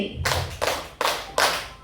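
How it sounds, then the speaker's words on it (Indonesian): A group clapping hands in unison exactly four times, each clap a loud broad burst followed by a short decay, spaced about a third of a second apart with no talk. "Tepuk tangan 4 kali."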